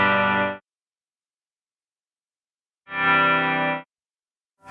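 An electric guitar runs through effects on a NUX MG-400 processor: two short, bright chord bursts separated by silence, each cut off abruptly with no trailing tail, no talking.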